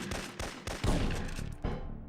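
A shotgun loaded with slugs fires repeatedly in the PlayStation shooter Syphon Filter 3, several sharp blasts coming in quick succession amid gameplay noise.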